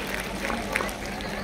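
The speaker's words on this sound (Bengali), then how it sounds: "জোরে হাততালি।" A hall crowd at the Nityananda Troyodoshi Mahotsav festival at Nazrul Mancha applauds a prize winner with dense, steady clapping that runs evenly throughout at a moderate level.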